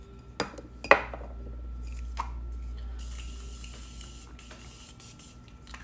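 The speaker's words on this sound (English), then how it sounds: "I am setting with the Continuous Mist Setting Mist by Morphe." Morphe Continuous Mist setting spray misted onto a face: a soft, continuous fine spray hiss that lasts a couple of seconds indoors and starts after a few small clicks and taps, with no talking.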